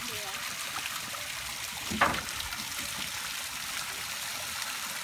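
Water pours from a boat's tank in a steady, faint trickling rush, with one brief louder splash partway through and no talk.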